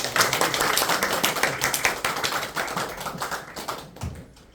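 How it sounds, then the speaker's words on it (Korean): A church congregation claps in a brisk, continuous patter of many hands that gradually thins out and fades toward the end. "나오실 때 박수 한번 하시고"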